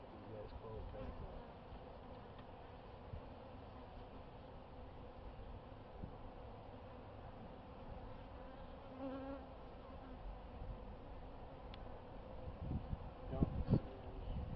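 Honeybees hum and buzz steadily around an open hive during an inspection, a faint continuous drone with light handling noises near the end, and a person speaks softly now and then.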